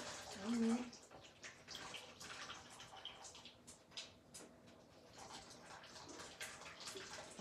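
Shrimp stock water drains from a cooking pot past a slightly lifted lid into a sink, a faint, steady pouring and splashing with a brief clink at the start.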